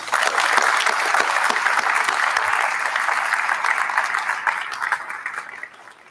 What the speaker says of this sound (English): I think this mom and military professional deserves a round of applause for her service to the nation and dedication to the family.